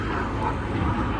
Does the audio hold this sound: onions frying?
no